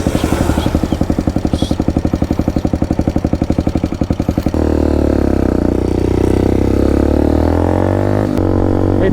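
A nine-year-old Motorstar MSX 150SR motorcycle's engine runs up close, first with a rapid, regular chugging pulse, then settling into a smoother, louder drone, with a short blip near the end.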